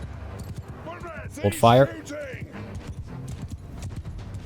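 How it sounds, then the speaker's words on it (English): Horse hooves galloping in the Mount & Blade II: Bannerlord video game, a rhythmic clip-clop running under a man's speech. It rises briefly in loudness midway, mixed with game battle noise. "The horse archer is riding forth."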